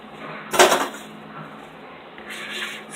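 A spoon scrapes leftover cake batter from a bowl, one short firm scrape followed by softer rubbing strokes, close and brief.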